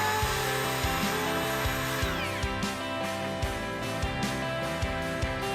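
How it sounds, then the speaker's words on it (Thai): A wood trimmer router rounds over the edge of a drilled hole in a wooden workbench top, a loud steady motor whine with repeated short cutting bursts at a regular rhythm. "ผมก็ใช้ทริมเมอร์ กัดในส่วนของรูให้มันกลมมนขึ้นนะครับ"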